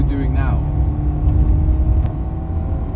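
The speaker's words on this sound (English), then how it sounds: "I got some Pipercross filters on those carbs, and that makes a lovely induction growl" An Alfa Giulia with Pipercross filters on its carburettors revs high in traffic alongside lorries. A deep, steady induction growl and engine rumble fills the cabin, with a brief voice at the start.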